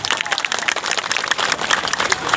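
Audience applause at a Jharkhand gathering with the state finance minister, dense steady clapping from a crowd across the whole stretch, fairly loud and continuous with no voice over it.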